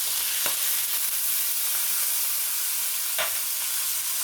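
Mushrooms frying in a skillet along with hamburger meat for one-pot lasagna, a steady close sizzle and hiss running throughout with a couple of brief stirring scrapes, no talk.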